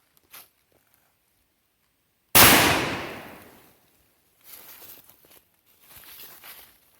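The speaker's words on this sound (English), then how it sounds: "let's test out the slug and let's see what kind of difference we get. 16 gauge slug." A single loud, close shotgun blast from a 16 gauge slug round, firing from the hip, booming and then decaying over about a second, followed by faint shuffling and handling noises.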